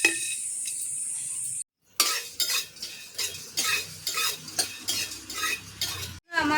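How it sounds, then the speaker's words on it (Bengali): Whole garam masala dry-roasted in a pan, rattling and scraping under a spoon in a string of quick, close stirring strokes after a short faint opening and a silent gap. "বন্ধুরা, এই যে গোটা গরম মশলা শুকনো খোলায় আমি টেলে নেব।"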